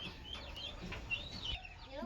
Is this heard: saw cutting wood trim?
no